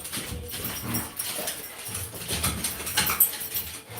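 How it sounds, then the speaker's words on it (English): Three large dogs, around 150 pounds each, move about a home, giving off whimpers and low noises alongside clattering movement, fairly close and continuous with no talk over them. "Husband's coming through with the dogs."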